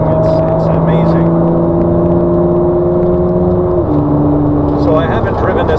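A 2017 Ford GT supercar runs on a racetrack, its engine a loud, steady droning hum with sustained tones that drop slightly in pitch near the end, heard up close from inside.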